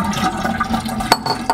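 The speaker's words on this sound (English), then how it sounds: "So we're gonna dump our hot water." Hot water poured out of a preheated glass while making a hot buttered rum cocktail, a short close splashing pour with a couple of clinks of glass near the end.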